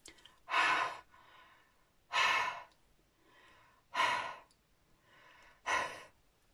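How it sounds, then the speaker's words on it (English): Someone breathes onto a rubber stamp to moisten its dried ink: four strong, close exhalations spaced about a second and a half apart, with softer intakes between them. "what I'm going to do to reactivate the ink, because the top one will have dried now, is I'm just going to breathe on it"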